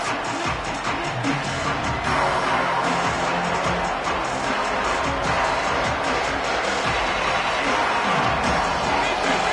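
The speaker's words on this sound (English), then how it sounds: "This crowd trying to show them what it's going to be like all day in this house" In a college football video game, a stadium crowd keeps up a dense, continuous roar and cheer, loud throughout, with a commentator talking over it.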